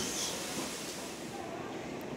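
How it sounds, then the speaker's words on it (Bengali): A Santipur–Krishnanagar local train rolls into Krishnanagar City Junction, heard as a quiet, steady rumble and hiss from inside the carriage. "আমাদের ট্রেন প্রবেশ করছে কৃষ্ণনগর সিটি জংশন"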